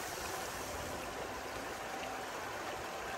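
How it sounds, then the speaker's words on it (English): Broadband rushing water over river rapids, a steady dense wash with no breaks, fairly loud and close, no voices present. "we're going to go and try and get up the rapids over there"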